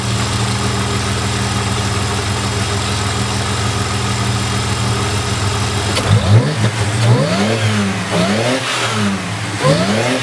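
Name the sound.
supercharged car engine revving after oil change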